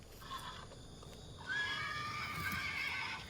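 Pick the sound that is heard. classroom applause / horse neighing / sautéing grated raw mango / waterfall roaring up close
horse neighing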